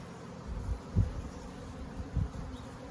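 Honey bees in a top bar hive during an inspection, a faint low buzzing hum with soft thumps and handling noises close by.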